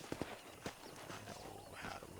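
Horse hooves clip-clop in the video game Red Dead Redemption, with a few faint hoof strikes over soft game background noise.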